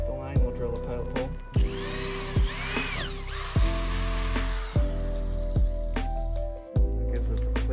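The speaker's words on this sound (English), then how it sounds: "we'll drill a pilot hole." A power drill bores a pilot hole through a wooden board for a backyard squirrel house, using a 3/8 inch bit: a loud, steady motor whine with several sharp stop-start bursts, close up and with no talking.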